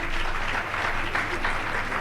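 Audience at an International Women's Day event applauds the Trailblazers, giving a short burst of dense, even clapping from a large crowd in a hall.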